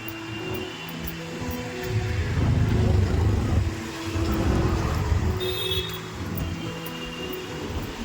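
Vehicles on a busy road roll past one after another, a steady swelling and fading rumble of engines and tires with passes peaking midway, heard up close from the roadside by someone waiting to cross.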